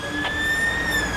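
An arriving ambulance siren sounds loud and close, its rising and sustained wail steady over traffic rumble, with no talking.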